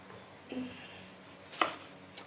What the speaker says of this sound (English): Dicing up the potatoes here.